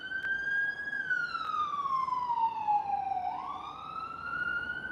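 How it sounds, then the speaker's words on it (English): An emergency siren wails close by, and its tone sweeps slowly down and then back up over continuous road noise, with no talking. "that's the ambulance, I believe."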